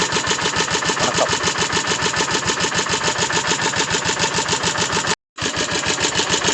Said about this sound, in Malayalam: അപ്പോൾ വണ്ടി സ്റ്റാർട്ടായി